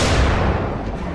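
Gunfire in the zombie survival video game Dying Light, a loud broadband blast that fills the whole short moment and decays slowly, with no other sound standing out.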